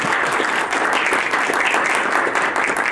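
An audience applauds panelists at a panel event, a dense, steady round of clapping that holds at full strength for the whole stretch, with no voices.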